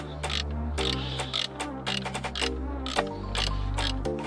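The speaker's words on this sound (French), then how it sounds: "pour le moment on commence à serrer notre écrou pour tendre un peu les câbles" Ratcheting wrench tightening the handbrake cable adjuster nut on a Porsche 996 C4 with Brembo brakes, a run of close, rapid clicking bursts repeated several times against a steady low hum, with no talk.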